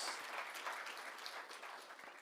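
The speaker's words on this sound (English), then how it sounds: "Shall we please give him another massive Namibian round of applause?" A room of delegates at a Namibia–Russia business forum gives a round of applause, steady and fairly soft, heard from some distance without talk over it.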